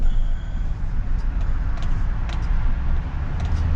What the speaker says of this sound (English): You can hear the expressway noise over anything that I'm currently doing.